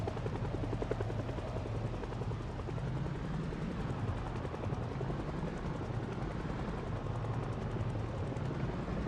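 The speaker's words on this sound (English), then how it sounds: "The helicopter noise is just modded in." Modded helicopter noise in the game Skyrim, a steady, loud rotor drone with a continuous low thumping chop that holds unchanged throughout, no talking over it.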